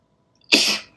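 A single sharp sneeze bursts out close by, loud and brief, fading quickly into silence.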